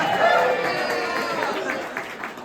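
An audience at a political talk applauds for the older folks: a steady wash of clapping and crowd murmur that holds at moderate volume and tapers slightly toward the end, with voices mixed in.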